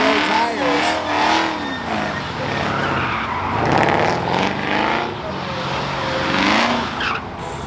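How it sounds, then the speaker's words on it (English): A car drifts and spins its wheels at a burnout contest, tires squealing and skidding loudly over a roaring engine for the whole stretch, with commentary talking over it. "doing a little drift action"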